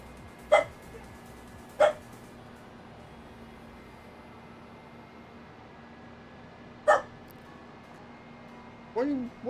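A dog in Farming Simulator 25 barks indoors, four isolated sharp barks spaced far apart over a quiet low hum, fairly close.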